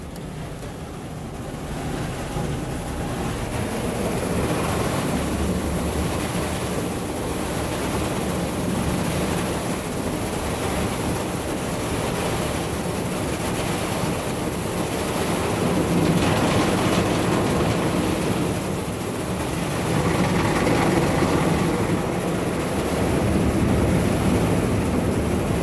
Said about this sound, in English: Actually, there's water shooting down back there.